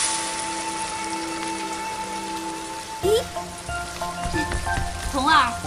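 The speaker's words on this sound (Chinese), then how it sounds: "外面正下雨" Rain falls steadily outside in an animated scene, a continuous soft hiss that runs throughout, joined partway by tonal music and sliding melodic notes.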